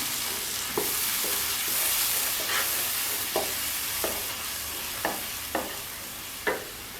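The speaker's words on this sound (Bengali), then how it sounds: "কষানো মশলার সাথে যে আনারসটাকে পেস্ট করে রেখেছি আমি এই পেস্ট করা আনারস এর সাথে দিয়ে দিলাম" Pineapple paste sizzles in a pan with cooked-down spice masala for a fish curry, a steady frying hiss broken by occasional sharp stirring scrapes and taps.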